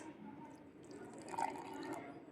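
Water poured into crushed garlic and chili powder chutney, a faint, brief trickle and drip in a quiet kitchen.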